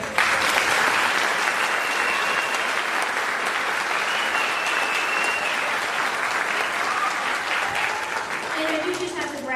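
Sustained audience applause fills a school spring concert hall at Peru Intermediate, steady and dense from start to finish with a faint voice underneath.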